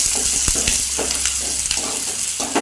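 Ground garlic, cinnamon and fennel paste frying in a hot pan, a loud continuous sizzle with occasional spatula scrapes and knocks as it is stirred.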